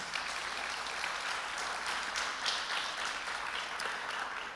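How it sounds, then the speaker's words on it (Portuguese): A church congregation applauding, sustained dense clapping from many hands that holds steady for several seconds, filling the room at even loudness. "Aplaudam o nome do Senhor Jesus."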